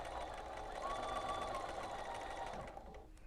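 A sewing machine stitches a quilted wedding star table topper in a steady, continuous motor hum with a sustained close running whir that eases off near the end.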